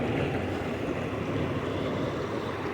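Water rushes steadily through lock 1 of the I&M canal, a loud, continuous broadband roar with no breaks and no talk.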